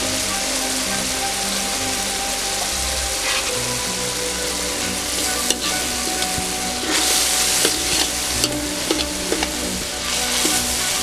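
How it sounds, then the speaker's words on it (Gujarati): A spoon slowly stirs egg curry masala with a little added water in a hot pan, giving a steady sizzle broken by light scraping clicks of the spoon against the metal, close up and with no talking. "आ मसाला ने आपणे धीरे धीरे चमचा वडे हलावता रहीशुं"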